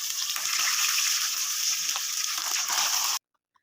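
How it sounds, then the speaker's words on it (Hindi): Fish fries in hot mustard oil with a steady, close, loud hiss and crackling sizzle that cuts off abruptly near the end. "और फिश अब मैं फ्राई कर रही हूँ।"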